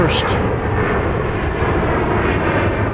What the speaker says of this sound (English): We've got a takeoff here.